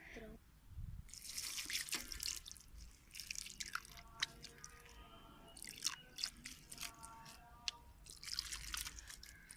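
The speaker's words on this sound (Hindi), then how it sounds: "और पानी आपने हाथ के साथ इस तरह छाटा देना है पानी का" Water flicked by hand over newly planted strawberry seedlings lands in soft, irregular patters and drips, quiet and close, in scattered bursts with brief pauses between.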